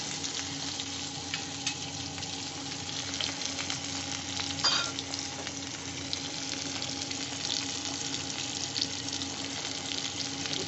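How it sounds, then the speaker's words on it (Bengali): Potatoes fry in a pan of oil, giving a continuous close sizzle and crackle that stays even throughout with a faint steady hum beneath. "এই আলুটা আমি ভেজে নেবো"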